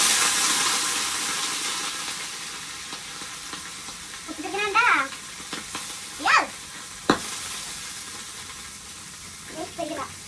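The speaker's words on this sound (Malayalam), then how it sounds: "നമ്മൾ നേരത്തെ പറഞ്ഞ വെള്ളം നമ്മളിപ്പോൾ ഒഴിക്കുകയാണ്" Water poured into a hot cooking pan sets off a loud, broad sizzle that starts strong and slowly fades over about ten seconds, with a few brief voiced sounds breaking through midway.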